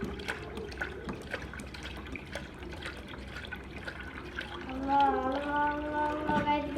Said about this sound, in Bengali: দুধ হচ্ছে ঢেলে নিচ্ছি জাল দেওয়ার জন্য।